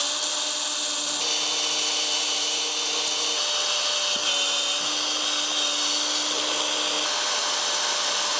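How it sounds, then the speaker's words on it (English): A power drill bores through car registration plates from the back, giving a continuous high whine that holds steady with slight pitch shifts and one brief interruption, close and without talk. "if you're drilling reg plates, you're always better off drilling the plates from the back so it doesn't push the sticker off as the drill bit goes through."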